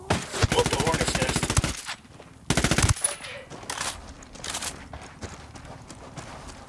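Gunfire in the video game Ghost Recon Wildlands: two loud, rapid automatic bursts, the first lasting nearly two seconds and the second shorter, followed by scattered shots and softer rattles, with a voice briefly heard.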